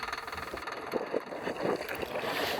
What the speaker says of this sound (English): There you can see straight away the engine starting and the water's flowing through the filter system, so you know the pump's doing something.